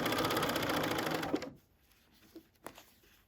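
A sewing machine stitches over the seams of a tote bag gusset in a fast, close, rattling run that stops after about a second and a half, followed by a few soft handling clicks.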